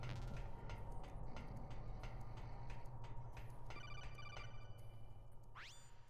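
A codec call rings in Metal Gear Solid: The Twin Snakes, a repeating electronic trill pulsing over a steady low game hum, followed by a quick rising chirp near the end; fairly faint and without talk.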